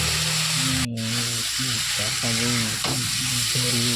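Vegetables, potato and pointed gourd for a fish curry, are stirred and fried in a pan, giving a continuous loud sizzle with scraping stirs and steady tonal sounds over it.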